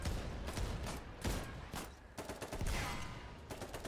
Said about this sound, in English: Oh my god, I've just shot our own team.